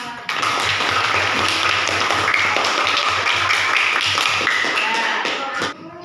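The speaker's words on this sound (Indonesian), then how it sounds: "Tepuk tangan buat kelompok 4." Students in a classroom applaud a class group, dense continuous clapping that starts abruptly, stays loud and even for several seconds, then drops off.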